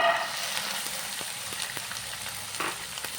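Sprouted chickpeas hit a hot pan with a teaspoon of oil and fry with a soft, steady sizzle and faint crackles, close and fairly quiet throughout.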